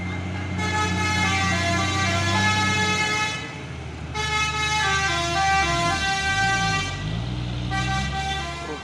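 A truck's telolet musical horn plays loud melodic toots in repeated bursts, with pauses between phrases, over the low rumble of an idling truck engine on a road.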